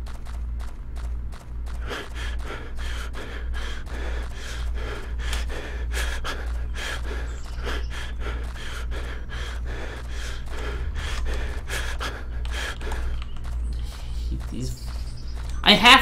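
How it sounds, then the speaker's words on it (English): A video game character breathes heavily while running, with steady, rhythmic panting and footsteps going on without a break at a constant level. "I have to run though, but I hate that breathing sound."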